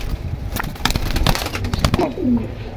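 Male military-fat pigeons coo near at hand with soft throaty calls, amid rustling and scuffling in the loft, ending in a clear low coo.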